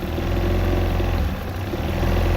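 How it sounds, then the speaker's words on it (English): Small outboard kicker motor running on partial choke, idling high with a steady loud low-pitched drone and a continuous engine rumble throughout, no voices. "It had to be up a little bit in order for it to idle, and it was idling high."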